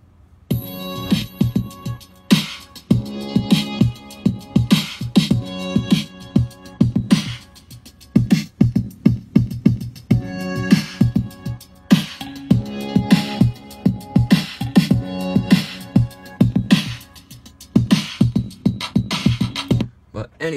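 A hip-hop beat built by mixing two tracks together at 100 BPM plays steadily, with punchy repeating drum hits and layered melodic samples, loud and continuous with no voices.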